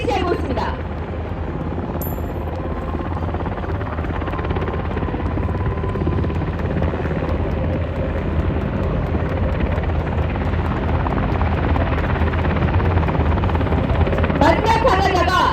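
A military helicopter hovers nearby during a fast-rope landing demonstration at the Gyeryong military culture expo. The loud rotor roar holds steady and continuous throughout, with a faint announcer voice underneath.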